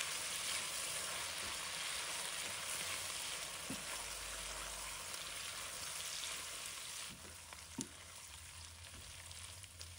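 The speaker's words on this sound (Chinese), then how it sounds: "加1勺的蚝油和适量的老抽上色，然后继续翻炒" Pork with salted fish, oyster sauce and dark soy sauce stir-frying in a wok, a continuous bright hiss of sizzling with occasional spatula scrapes and taps, moderately quiet and steady, no talking.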